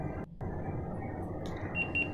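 A nine-year-old Bluetooth speaker gives short electronic pairing beeps as it connects to a mobile phone, faint tonal chirps near the end over steady low background hum.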